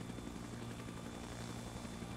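A helicopter in the Arma 3 video game flies and comes in to land, its steady rotor drone and engine noise running continuously at a faint, distant level.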